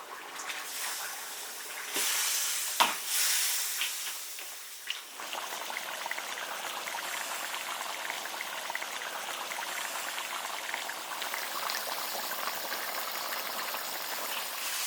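Lamb ribs and carrots boiling in an iron pot outdoors, a soft continuous bubbling hiss close by, with a brief clatter and louder burst near the start before settling into an even simmer.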